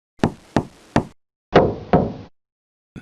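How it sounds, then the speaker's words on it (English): Five crisp knocks on a wooden door in a patterned rhythm, three evenly spaced raps, a pause, then two heavier ones, close and clear, with a faint final tap. "They knew our secret knock."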